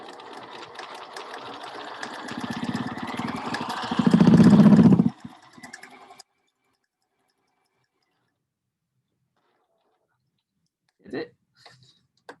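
A sewing machine stitches across the corner of a fabric costume piece and then along a long side. It runs as a steady near mechanical whirr that builds and then stops, followed by silence and a few faint handling clicks.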